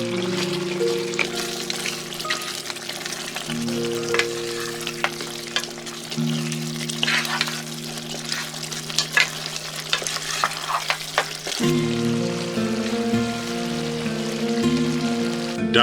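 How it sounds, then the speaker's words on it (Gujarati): Mutton curry seasoned with Kashmiri red chilli and garam masala being stirred in a pan over medium gas, a steady sizzle with repeated scraping and stirring strokes throughout, close and fairly loud, with background music. "1 ચમચી કાશ્મીરી લાલ મરચું કલર માટે, અડધી ચમચી ગરમ મસાલો બધાને સરસ ફેરવી દઈએ"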